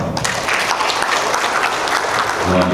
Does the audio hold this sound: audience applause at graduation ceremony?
yes